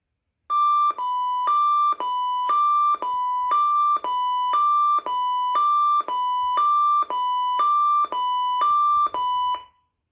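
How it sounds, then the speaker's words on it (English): A LifeFone at-home cellular medical alert unit sounds its emergency alarm after a button push, a loud, clear two-tone electronic warble repeating in rapid regular pulses for several seconds before cutting off. "Emergency alarm."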